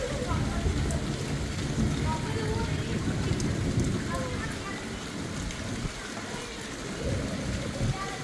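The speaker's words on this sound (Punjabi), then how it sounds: "ਦੇਖ ਮੀਂਹ ਕਿੰਨਾ ਪੈ ਰਿਹਾ" Steady rain pours down, a dense continuous hiss with low rumbling underneath, loud and unbroken throughout.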